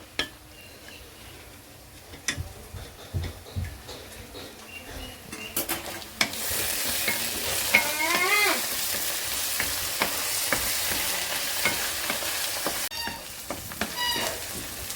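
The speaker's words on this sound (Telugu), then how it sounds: "ఇదిగోండి ఉల్లిపాయ పేస్ట్ను అల్లం వెల్లుల్లి పేస్ట్ కూడా కొంచెం ఎర్రగా వేగినాయండి" Onion paste and ginger-garlic paste fry in a pan with a close, rising sizzle, punctuated by utensil scrapes and clinks; a cat meows briefly in the middle.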